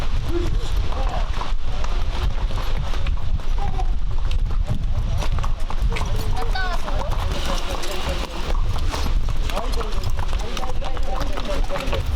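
Horses' hooves thudding and drumming on a kokpar racetrack in Kazakhstan, a steady loud clatter of running horses over wind and crowd noise, with a voice speaking over it throughout.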